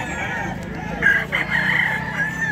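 A Boston Roundhead rooster crows loudly and close by at a busy pet market, one drawn-out call over a background of other birds and low crowd murmur.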